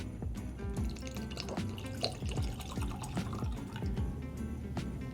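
Whiskey sample poured into a glass, a close, quiet trickle of liquid with small drips and clinks running steadily for several seconds.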